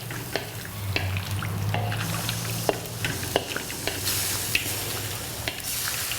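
Shrimp fried rice with chili pepper sizzling in a pan, a steady close frying hiss with occasional sharp pops and stirring scrapes, no talking.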